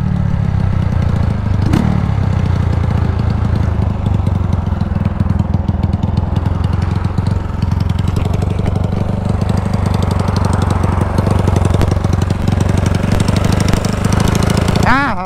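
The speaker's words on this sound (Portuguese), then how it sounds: "A moto começou a fazer um barulho estranho," A Honda Titan 250cc motorcycle with a modified carburetor idles roughly while making a strange noise from a fallen exhaust nut, a loud steady rattling engine drone throughout with a brief knock early on.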